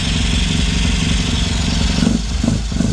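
An MGB sports car engine fitted with a Weber DCOE carburetor runs steadily, a close, loud, throbbing idle with a slight uneven lope and a small surge near the end.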